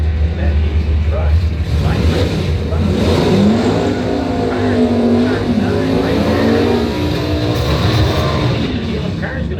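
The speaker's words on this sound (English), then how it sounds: "that big diesel running fast" A big diesel pickup truck runs fast down the drag strip at Northern Michigan Dragway, a loud continuous engine roar with a rising and falling whine, heard under steady commentary.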